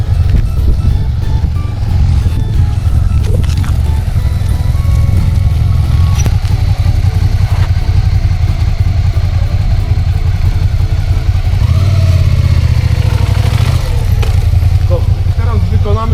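A motorcycle engine idles and revs at close range on a licence exam practice course, rising in pitch near the end, while someone talks over it.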